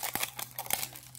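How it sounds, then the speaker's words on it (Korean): Plastic wrap is torn and crinkled off a new picture-matching card game, a quick series of sharp, close crackles and rips over about a second. "뜯어내면, 비닐을"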